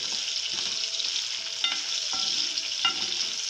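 Chopped onion, tomato and garlic fry in a pan for vegetable rolls, a close, continuous sizzle with a few sharp clicks of a spoon stirring, and no talking.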